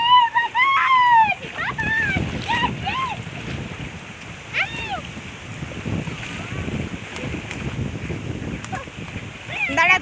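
Storm-driven river waves sloshing and splashing against the bank amid gusty wind noise, with people shouting and talking over the water throughout.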